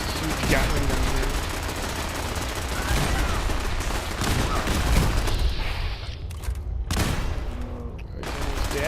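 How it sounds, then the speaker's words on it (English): Rapid Gatling gun fire in the video game Fallout 4 in a tight hallway, dense loud rattling bursts that break into short gaps near the end, mixed with other game noise. "I got him firing this huge Gatling gun here."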